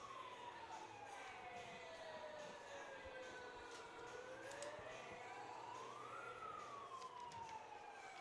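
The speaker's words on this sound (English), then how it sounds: "The sirens are out." A wailing siren rises and falls continuously over a loud, steady crowd roar at a men's soccer match in a stadium, with scattered shouts and cheers throughout.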